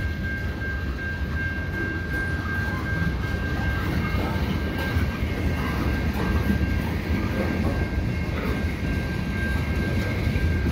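A CN westbound freight train rolling past on a rainy evening at a street crossing, a steady loud rumble of wheels and cars with a constant high tone running throughout, no talking.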